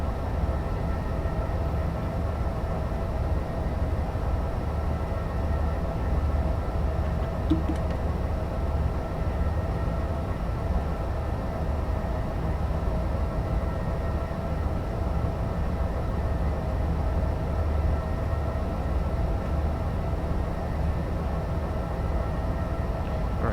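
Steady, continuous low rumble of a DB BR 101 electric locomotive hauling an intercity train in a simulator game between Leipzig and Dresden, an even rolling drone with no breaks throughout.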